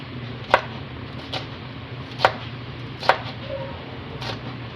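Tilapia being sliced on a cutting board, a few sharp knife knocks spaced unevenly over a steady low background hum, close and distinct.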